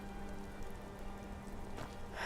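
Steady rain falls in Skyrim, a soft even hiss with a faint low hum beneath it, ending in a brief brighter splash; no one speaks.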